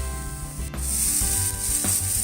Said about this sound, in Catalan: Comencem a preparar la salsa pel pollastre tikka masala sofregint les llavors de cilantre i de comí.